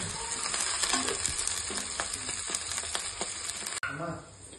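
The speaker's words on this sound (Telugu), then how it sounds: "దీన్ని కొంచెం గోల్డెన్ బ్రౌన్ అయ్యే వరకు వేయించుకోవాలి." Onions and curry leaves frying until golden brown crackle steadily up close, with light stirring scrapes, then the sizzle drops away after a sharp knock.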